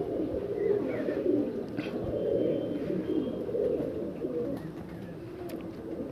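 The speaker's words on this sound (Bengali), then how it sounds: "এখন আমাদের কাছে আছে আমাদের পায়রা।" Pigeons coo in low, rolling bursts, repeating steadily and close by, over a faint background murmur.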